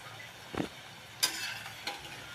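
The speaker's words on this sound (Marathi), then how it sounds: "तर या ठिकाणी मी सगळ्या कापण्या तुम्हाला इथं तळून दाखवते." Kapnya, sweet cutouts of wheat flour dough and jaggery, fry in a pan. A faint sizzle runs underneath, broken by three brief, sharper bursts of frying and stirring.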